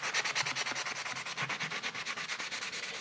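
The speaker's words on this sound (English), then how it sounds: "all I start to do is I just pretty much start sanding it down." Quick, rhythmic back-and-forth scratching of sandpaper on a resin statue, close and steady, with no one talking.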